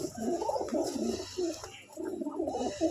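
A flock of domestic pigeons, among them a young bird, coos continuously nearby, low burbling phrases overlapping without any talk.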